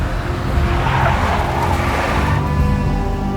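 A big black Mercedes drives in the Max Payne video game, its engine a steady, loud drone with a rising, strained whine in the middle, heard alone without talk.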